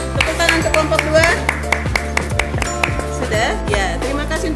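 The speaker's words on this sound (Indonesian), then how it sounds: "Oke, tepuk tangan untuk kelompok 2." A small group claps sharply and unevenly for a few seconds, close by, with voices underneath.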